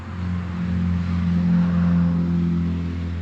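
A 1968 Plymouth Road Runner V8 running with no headers or exhaust manifolds, a loud, raw, steady low rumble that swells into a revving peak midway and then settles, close by and alone.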